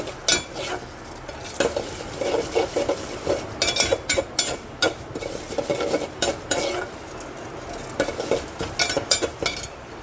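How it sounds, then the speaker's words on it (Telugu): Urad dal, chana dal, moong dal and cumin fry in hot oil for upma, with a steady close sizzle under frequent scraping and clinking of a metal spoon against the pan. "అందులో మినపప్పు జీలకర్ర శనగపప్పు పప్పు వేసుకోవాలండి అందులోనే కొంచెం పెసరపప్పు కూడా వేసుకోవాలి వేసుకుని బాగా వేయించుకోవాలండి"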